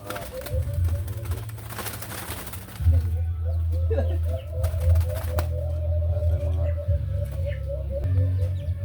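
Alimokon doves cooing in a repeated, rhythmic series of soft low calls, close and fairly clear over a low background hum, with a few brief sharp noises between them.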